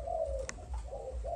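A young six-month-old Malaysian spotted dove cooing close by, a soft repeated low coo phrase with a short higher note in between, clear and steady.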